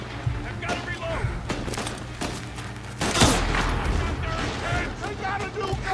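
Rapid gunfire from a shootout in the video game Mafia Definitive Edition, with shots cracking over a steady mechanical backdrop and louder bursts after the midpoint. In-game characters shout through the exchange.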